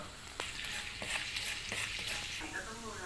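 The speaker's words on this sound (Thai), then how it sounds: "เดี๋ยวเรามาเจียวกระเทียมให้หอมไปก่อนนะครับ" Garlic fries in hot oil for Thai egg fried rice with pork, making a soft, constant crackling sizzle with occasional light scrapes and taps of a utensil in the pan.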